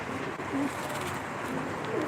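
Pigeons kept and fed by their owner coo softly at close range, a few low murmuring calls drifting over a faint background hum.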